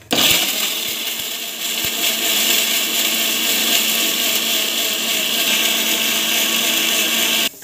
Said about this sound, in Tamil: ஸோ இப்போ வந்து பார்த்திங்கன்னா மிக்சியில் போட்டுட்டு அரைச்சிக்க போகிறோம்.